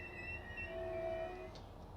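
A London to Faversham high speed train in a train simulator game slowing to a stop, with a steady low rumble under drawn-out whining tones that slide and fade, ending in a short hiss.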